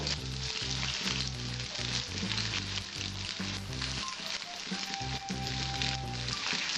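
Potatoes and bitter gourd sizzling in hot mustard oil in a pan: a dense, steady frying crackle throughout, close and fairly loud, with occasional soft stirring or scraping sounds.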